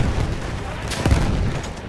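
A grenade explodes in the video game Battlefield 1 during battle, a single loud burst about halfway through over dense, continuous combat rumble.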